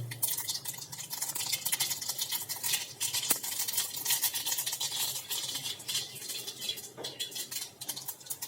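Whole cumin seeds and asafoetida hit hot oil in a pan, setting off a dense, continuous crackle and spatter with occasional metallic clinks of the pot, loud and close throughout.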